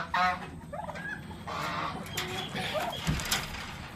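Turkeys of breeder age on a farm gobble and call in a few short bursts near the microphone, over a busy background of other fowl and farmyard noise.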